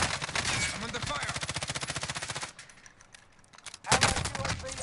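Video game gunfire: a sustained burst of rapid machine-gun fire, loud and close, that cuts out briefly and then returns with a sharp crack, while voices speak over the shooting.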